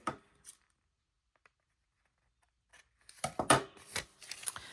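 Scissors snip through paper for a grungy junk journal, starting with a few faint cuts and then a busy cluster of closer, crisp snips and rustling in the last seconds.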